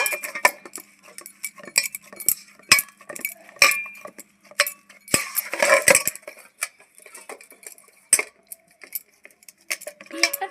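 A steel plate is handled on a kitchen surface, giving scattered metallic clinks and taps in irregular bursts. The clinks are close and sharp with quiet gaps between them.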